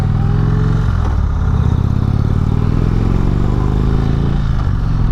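A 2016 Indian Springfield motorcycle engine rumbles steadily while riding, loud and close with a deep continuous drone and gentle pitch shifts, alone and without talk.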